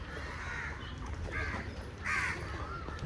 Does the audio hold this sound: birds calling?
yes